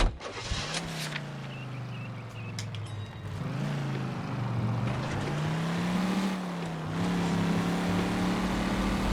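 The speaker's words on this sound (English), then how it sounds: "his car sounds so throaty" A throaty car engine in the video game L.A. Noire rumbles steadily, its pitch rising and falling as it revs, with a low continuous drone throughout.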